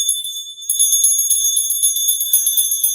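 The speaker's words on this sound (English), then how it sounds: "We're going to ring that bell" A small hand bell rings steadily at the close of a live spiritual Q&A session, its bright, sustained tones shimmering high and clear with no voices over them.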